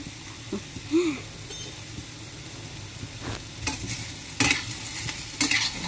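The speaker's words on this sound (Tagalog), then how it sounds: "So, haluin lang natin para hindi siya masunog." Potato and eggplant fry in a pan with a little added water while being stirred, a steady soft sizzle under scattered spatula scrapes and knocks that grow louder toward the end.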